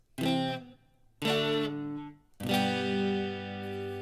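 Three strummed electric guitar chords with muted strings, each ringing out with a buzzy, slightly distorted tone; the last one sustains longest.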